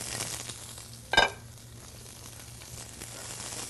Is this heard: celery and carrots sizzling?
yes